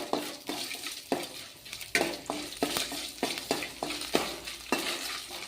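Chana dal frying in a pan as it is stirred, with a steady sizzle broken by repeated scraping strokes of the spoon at a fairly even rhythm, close and moderately loud with no talking.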